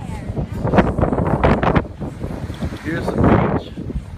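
Gusty wind buffets the microphone on a beach, a steady rumbling roar that rises and falls throughout, with a person talking over it.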